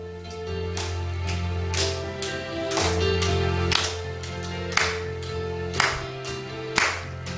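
A congregation claps in a steady beat, about one clap per second, along to hymn 61 at a Sunday service in a Korean Presbyterian church in Hawaii, over sustained organ-like music that fills the room.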